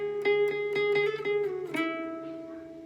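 Acoustic-strung guitar in a solo line from a song, a run of picked notes followed by a slide up to a sustained, ringing note that slowly fades.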